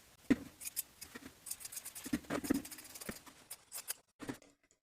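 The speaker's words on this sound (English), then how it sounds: "Trim the seam allowance by 1/2." Scissors trim a fabric collar seam allowance in a quick run of close, crisp snips and rustles, fairly faint, ending in near silence with one last snip.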